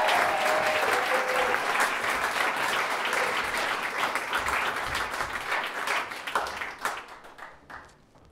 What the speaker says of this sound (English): Please, big round of applause for Katie Graham and Andrew Matthews.